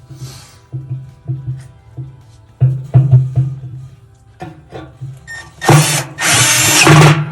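A power drill drives screws into a Frigidaire gas dryer during repair, with several short bursts of motor whine, then a louder, longer run near the end, close up and without any talking.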